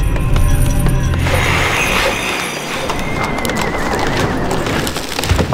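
Loud horse whinnies over hoof clatter and busy battle noise in Warcraft 3 gameplay, dense and close throughout.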